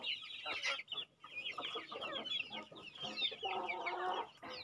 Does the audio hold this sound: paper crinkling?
no